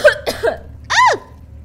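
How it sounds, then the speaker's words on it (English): A few harsh, close coughs from a character in the horror video game Amnesia, two quick hacks followed by a strained, tonal rasp. "I have terrible coughs."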